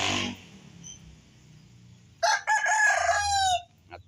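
A fighting cock crows once, loud and close, its harsh, drawn-out call following a quiet stretch with faint background noise.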